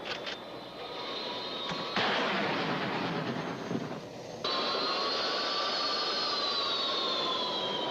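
A jet aircraft drones steadily in flight, a constant roaring hum with a high whine above it, sustained throughout with a brief shift in tone partway.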